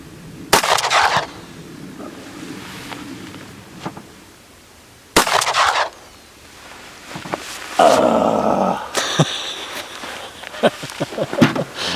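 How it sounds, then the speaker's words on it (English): A Remington Model 11-48 shotgun with its choke set to modified fires two loud, booming shots a few seconds apart outdoors, followed by further rapid bangs and clattering handling sounds. "Just turn it to the modified position, run a couple shots through it, see what happens."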